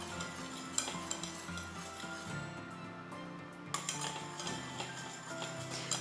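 White sauce being stirred continuously in a pan, quiet repeated clinks and scrapes of a spoon against the metal with a faint sizzle and a low background hum.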